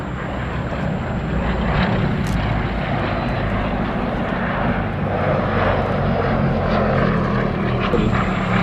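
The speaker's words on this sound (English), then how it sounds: "Blenheim 1Fs like this were briefly based here at Duxford" A Bristol Blenheim 1F piston-engined aircraft flies at the Duxford Battle of Britain air show, its steady propeller drone loud and continuous throughout with broad wind-like roar and no talk.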